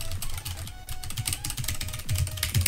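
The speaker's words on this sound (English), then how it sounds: "But for now I have the Black Widow Ultimate Stealth. Absolutely beast of a keyboard. It is quite loud though, not gonna lie." Rapid, loud mechanical keystrokes clatter on a Razer BlackWidow Ultimate Stealth keyboard, an irregular burst of clicks close to the mic with no voice over it.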